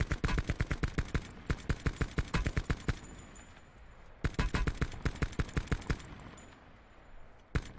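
Rapid automatic gunfire in Call of Duty Blackout, two sustained bursts of sharp, evenly spaced shots, loud and close, separated by a brief lull.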